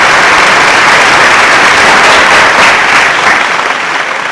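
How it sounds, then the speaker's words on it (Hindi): Loud, dense applause from a large audience at a stage event, a steady roar of many hands clapping close by for about four seconds, easing off slightly toward the end. "A huge round of applause."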